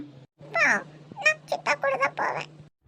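A cat named Tamil cries in a run of loud, close, wavering meows, several in quick succession with short pauses between them, over a steady low hum.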